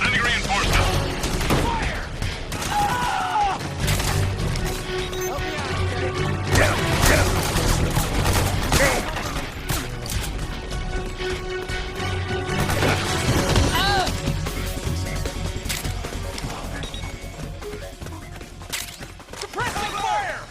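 Heavy sustained gunfire from a Metal Gear Solid 4 firefight, with repeated crashing volleys, thuds and impacts layered over combat music and occasional shouted voices throughout.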